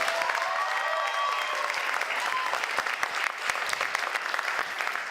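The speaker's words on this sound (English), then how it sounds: "Let's give her a big round of applause." A live audience claps for a finalist at a college elevator pitch competition, a dense, steady round of applause holding for several seconds with a few sharper individual claps poking through.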